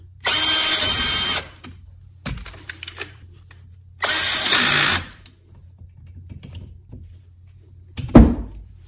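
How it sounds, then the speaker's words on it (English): An electric screwdriver drives a bolt into the front brake assembly of a 2008 Toyota Prius, with two loud sustained whirring bursts, a short buzz between them and a sharp metallic clunk at the end. "I'll go ahead and screw this bolt all the way in, holding the inside nut in place."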